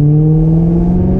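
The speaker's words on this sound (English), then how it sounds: "Listen to that beautiful bobbling V8" A Maserati Levante Trofeo's Ferrari-built V8 drones close by in a car park with a steady low rumble and a slowly rising pitch as it is revved.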